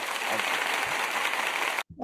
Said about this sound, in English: And to rapturous applause, I'm sure.